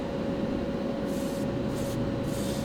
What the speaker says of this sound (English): Keeping my airbrush moving across the casting. Starting my spray pattern before the casting and stopping it afterwards.